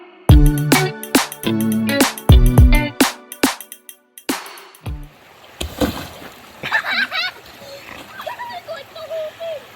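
People talk at first, then an off-road vehicle on a trail pushes through ice-cold water with a loud splash and continued sloshing and churning.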